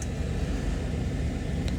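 Steady low rumble of idling and creeping road traffic while stuck in a jam, cars and engines droning continuously nearby with no breaks, plus a faint brief high tone near the end.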